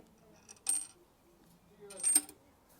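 A metal spacer drops into the fork tube of a Triumph Bonneville T120 motorcycle during a fork spring upgrade, giving two short, bright metallic clinks a little over a second apart in an otherwise quiet space.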